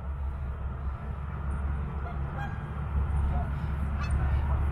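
Geese and ducks honking at a distance outdoors by an iced-over pond, faint calls scattered over steady wind and low rumble, with a person talking nearby.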